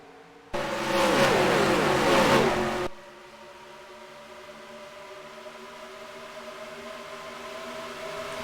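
Race car engines in NASCAR Racing 2003 roar in a loud, rising burst for about two seconds, then fall back to a low, steady engine drone.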